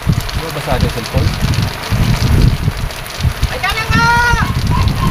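Heavy rain driven by strong wind roars steadily throughout, with gusts buffeting the microphone, while excited voices talk over the downpour.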